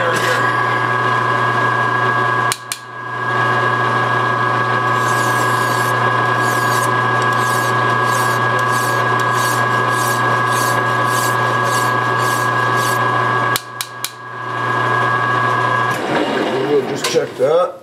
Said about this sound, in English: I'm just going to take a little more with the file